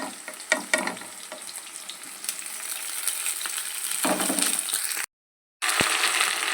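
Brinjal, ivy gourd, tomatoes and green chillies sizzle loudly in a hot pan for a spicy chutney, with spoon stirring and scraping clatter, a brief dropout, then frying resumes.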